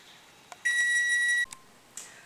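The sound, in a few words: kitchen timer beeping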